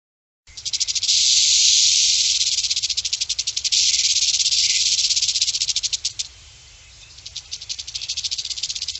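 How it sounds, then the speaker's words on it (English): Timber rattlesnake rattling, a loud, continuous dry buzz close by that runs steadily for several seconds, breaks briefly, then resumes as faster pulsing bursts, heard alone without voices. "the only one that's poisonous is the timber rattlesnake. And here's a timber rattlesnake."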